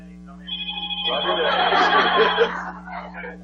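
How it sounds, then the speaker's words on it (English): A telephone rings with an incoming call during a spring 2006 question-and-answer event, its steady tone sounding for a couple of seconds while people talk and chuckle over it. "We're getting a phone call here"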